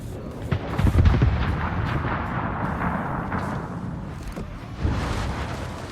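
Heavy warship guns firing in a naval combat video game, a booming rumbling blast near one second followed by sustained low roar and another thump toward the end.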